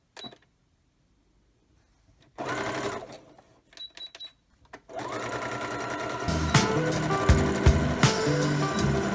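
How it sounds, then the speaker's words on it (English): A sewing machine zigzag-stitches across the raw edge of elastic for an apron skirt, starting with short stop-and-go bursts before settling into a loud, steady run up close. "I think I'm just gonna zigzag it a little just so it doesn't get doesn't fray on us"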